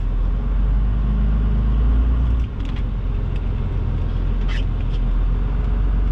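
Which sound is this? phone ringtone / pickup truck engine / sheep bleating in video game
pickup truck engine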